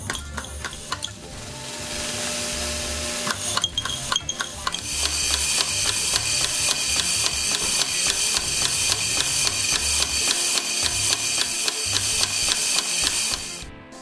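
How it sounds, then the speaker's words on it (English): An automatic screw feeder runs, counting screws into batches of 22, with rapid repetitive mechanical clicking and rattling over a steady whir that starts after a brief quieter stretch, close and continuous until it stops abruptly near the end. "Now the screw feeder will count batches of 22, and we have 25 of those batches."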